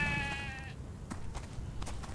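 Sheep bleating in the video game Stubbs the Zombie, a single short bleat up front, then soft thumps and rustling under a quiet game background.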